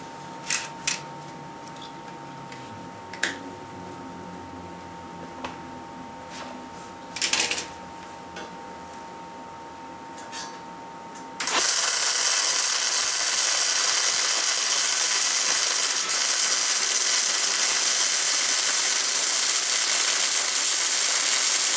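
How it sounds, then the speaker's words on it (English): Welding upside down, overhead: a steady, loud broadband hiss and crackle starts abruptly partway through and runs continuously to the end, after a quieter stretch of scattered clicks and tool clatter. "Let's see if I can weld upside down"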